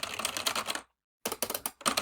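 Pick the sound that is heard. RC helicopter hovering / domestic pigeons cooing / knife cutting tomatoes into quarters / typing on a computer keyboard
typing on a computer keyboard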